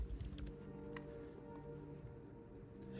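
Soft, quiet clicking of keys on a computer keyboard, a short run of light taps over a low background hum.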